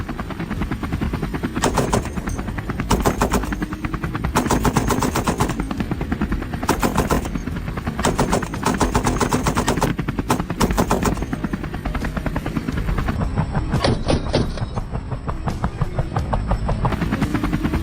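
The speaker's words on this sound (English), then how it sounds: "Then, a rapid volley of gunfire erupted." Rapid bursts of automatic gunfire from a helicopter during a wild boar hunt over farm fields, loud and repeated in quick volleys over the constant whirring drone of the rotor.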